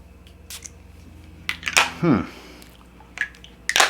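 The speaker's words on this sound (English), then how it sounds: "we'll give it a little spray right here on the wrist" A few quick hissing sprays from a perfume atomizer burst out close by, onto a wrist, mixed with clicks and handling noises over a low background hum.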